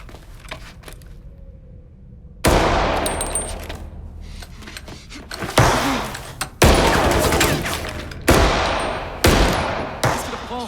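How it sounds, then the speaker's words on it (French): Repeated loud gunfire from a fight in an animated film about a French Resistance camp in the Vercors: several heavy bursts of shots and rattling volleys, each decaying into echo between short pauses. "Mais sur qui vous tirez? Y'a que dalle, Albert, arrête!"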